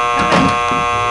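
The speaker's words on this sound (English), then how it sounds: "That is the stinking most annoying sound in this entire game. Is all those buzzers and that buzz for the door." A harsh, loud electric door buzzer sounds in the Nancy Drew game Stay Tuned for Danger, one continuous raspy buzz of about a second.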